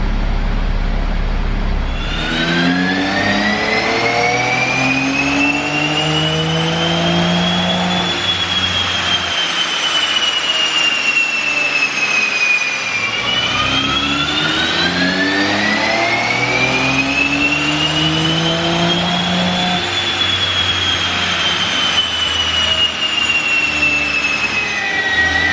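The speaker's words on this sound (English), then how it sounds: "Try to give you guys some dyno hits." A BMW X3 M with the S58 engine runs dyno pulls, two long sweeps that climb from low revs to a loud, high wailing peak, drop back, then climb again, with no one talking.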